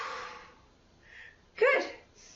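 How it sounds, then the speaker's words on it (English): Deep breaths during an exercise class come as a long soft exhale, a quieter breath after it, then a sharper, louder rush of air as the last breath is pushed out, close to the listener. "Big deep breaths."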